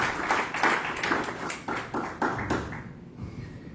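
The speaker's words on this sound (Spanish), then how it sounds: "Dale un fuerte aplauso a la palabra." A church congregation breaks into a loud round of applause during a Spanish-language sermon, dense clapping that swells and then fades out toward the end.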